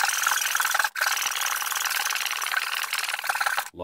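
A hand saw cuts through a scrap wood blank held in a clamp, with rapid, close rasping strokes in a continuous rhythm, briefly pausing once before the final strokes.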